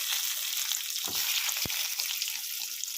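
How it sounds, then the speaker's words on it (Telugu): Egg curry frying in a pan, a dense continuous sizzle close up, with a couple of soft knocks from stirring. "దీన్ని కూడా ఇలా ఫ్రై చేసుకున్నాం"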